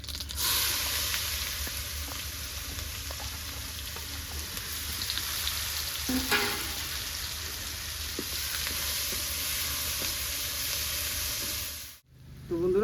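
Chopped onion, dried red chillies and whole cumin sizzle steadily in hot oil, a constant close crackling fry that holds its level throughout and drops out abruptly near the end.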